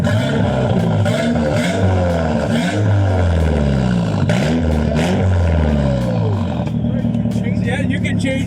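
A JDM car's engine revs repeatedly through an adjustable exhaust, loud and close with rising and falling pitch sweeps, while people talk over it.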